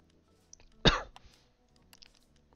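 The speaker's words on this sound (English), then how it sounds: "I just coughed into the microphone." A single sharp cough lands right against a close microphone, loud and abrupt, followed by a few faint mouth and breath noises in an otherwise quiet room.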